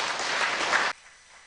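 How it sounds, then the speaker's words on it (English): Applause from the audience at an academic symposium: a brief burst of dense clapping that cuts off abruptly, fairly soft and distant. "Can we have a clap for Mwenda?"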